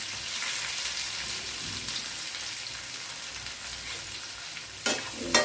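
Green chili, ginger, garlic, onion and curry leaves fry in hot oil for Maggi noodles, giving a steady, close, even sizzle throughout, with a couple of brief stirring clatters near the end.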